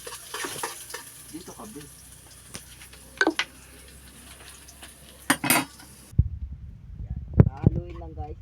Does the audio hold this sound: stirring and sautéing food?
yes